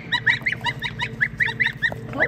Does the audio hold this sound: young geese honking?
yes